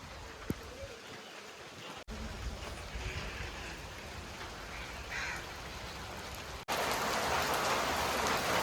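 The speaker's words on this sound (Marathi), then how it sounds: "बापरे कसला जोरात आला पाऊस" Heavy rain pours steadily on surfaces, growing louder toward the end, with a voice briefly heard and a distant crow cawing.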